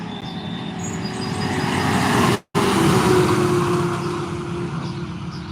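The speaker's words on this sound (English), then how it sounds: "Sounds like some big equipment coming up the road." A large vehicle rumbles along a road, its engine droning steadily and growing louder as it approaches, with a brief cut in the middle.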